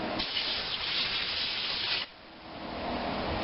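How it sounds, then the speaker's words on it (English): Sandblaster working on a Generac 2500psi pressure washer part: a close, loud, continuous abrasive hiss that drops off sharply partway through, then rises again more softly. "I'm just going to hit it with the sandblaster."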